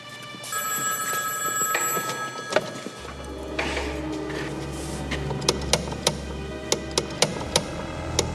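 An old telephone in a haunted setting rings with a tinny metallic bell over a steady low hum, followed by a series of sharp, evenly spaced clicks and ticks.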